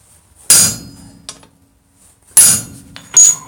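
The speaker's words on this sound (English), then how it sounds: "Get that riveted up really nice. Do a little more on this side." Hammer blows ring out on a hot rivet joining the jaws of blacksmith pick-up tongs at an anvil: two loud bright metallic strikes about two seconds apart, a lighter tap between them, and a final ringing hit.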